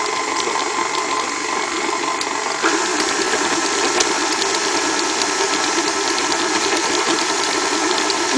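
A stand mixer with a paddle attachment beats chocolate chip cookie dough while sugar is slowly added, giving a steady, loud motor whir with a rattling, knocking texture that steps up slightly partway through, with no talking.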